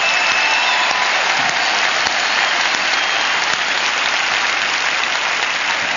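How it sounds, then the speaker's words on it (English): Resounding audience applause for the Hillsong team fills a large venue, dense, steady and loud clapping from a big crowd sustained without a break for the full six seconds. "let the Hillsong people know by kind of a resounding applause how much we appreciate all the work"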